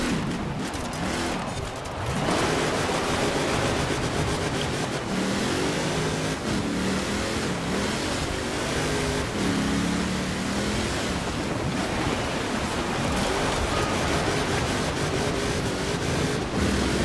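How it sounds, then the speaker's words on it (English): A car built to race on dirt and asphalt, made up as Doc Hudson from Cars, drifts through corners with continuous loud engine roar, tyre and gravel hiss and rising revs throughout, no voices. "gotta drift around the corners because, whoops, the whole turn left to go right thing from car one"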